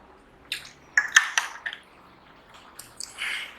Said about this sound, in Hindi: तब तक के लिए हम पानी पी रहे हैं आपके साथ